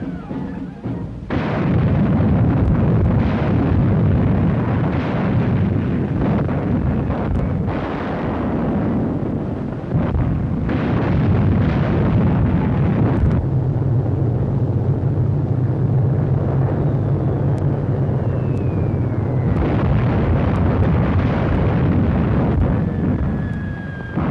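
War-film battle sound of invading army guns and tanks, a dense, loud, continuous roar of explosions and artillery fire, rumbling steadily with a few brief breaks.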